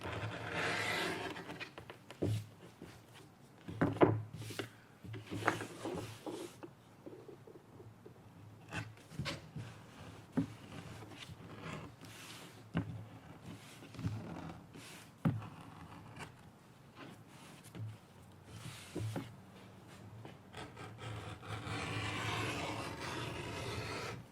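Thick leather hand-beveled along its edge, giving irregular scraping and rasping strokes of varied length, close up, with bumps and handling knocks in between and no talking.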